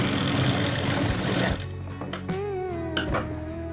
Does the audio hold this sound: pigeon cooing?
no